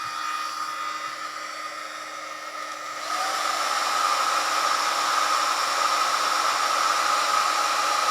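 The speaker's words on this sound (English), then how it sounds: "Now I'm going to turn on the last hair dryer." A hair dryer powered by an EHOM EP1650 power station roars on midway, joining an existing steady whir and raising the constant blowing noise to a louder, even hiss.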